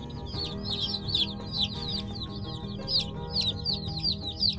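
Baby chicks under heat lamps peep over and over in quick bright chirps, close and busy, overlapping one another above a low steady hum.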